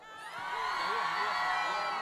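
Women in a large concert audience scream and shout together at a festive open-air show, a loud, sustained high-pitched roar swelling quickly and holding steady.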